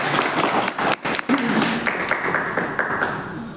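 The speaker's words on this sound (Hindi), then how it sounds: "भाई के लिए एक बार जोरदार तालियां मारो" Loud applause from a gathered crowd welcoming a first-time attendee, a dense continuous wash of clapping with brief dips, steady and close throughout.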